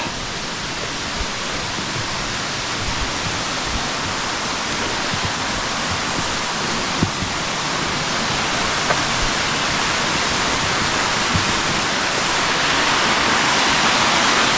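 A continuous, loud roar of rushing water beside a mountain trail near Biryong Falls in Seoraksan, South Korea, steady and broadband like a nearby waterfall, with no voices.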